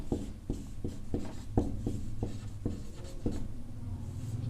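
Pen writing on paper while working a Class 9 maths problem on sphere radius, a steady run of close scratchy strokes with sharp taps about every half second, no talk over it.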